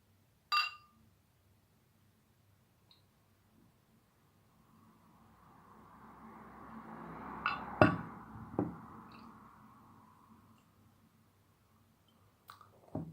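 St. Amatus 12 beer pours from a bottle into a glass, a soft rising gurgle that builds and fades over several seconds, framed by sharp glass clinks and taps at the start and end.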